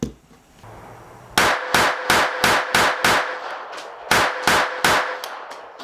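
A Taurus PT-22 sub-compact .22 semi-auto pistol fires in rapid succession: nine sharp, loud, close reports in two quick strings, with no talking.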